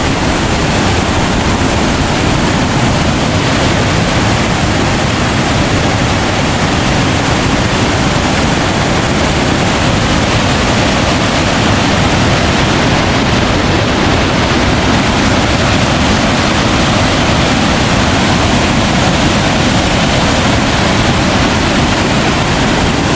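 Water flows steadily at the head of the Minnesota River at Big Stone Lake near Ortonville, Minnesota, a loud, broadband rushing that holds constant for the whole stretch with no voices.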